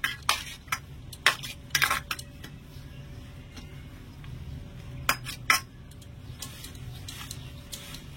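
A steel plate being greased with oil, producing scattered light metallic ticks and clinks in small clusters, close and fairly quiet over a low background hum.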